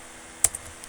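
A computer keyboard gives a single sharp, close keystroke click followed by a fainter second tap in otherwise quiet room tone.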